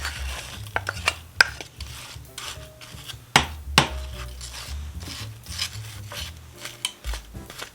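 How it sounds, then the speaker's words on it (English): Sliced apples tumble into a pan of onions cooking over low heat, giving scattered clatters and knocks of fruit and utensil against the pan over a soft sizzle, close and fairly loud, with no talking. "And then now I'm putting in my sliced apples."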